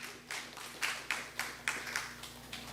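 Congregation clapping in a church service, a series of about ten sharp, fairly regular claps spaced roughly a quarter second apart, moderately close and with no talking over them.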